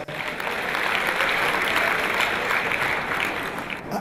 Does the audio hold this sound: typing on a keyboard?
no